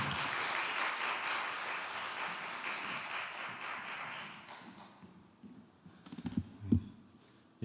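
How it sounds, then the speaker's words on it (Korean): A church congregation at a Wednesday service applauds to welcome a missionary, a sustained patter of many clapping hands that fades after a few seconds, followed by a few thumps and handling noises. "박수로 맞이하시겠습니다"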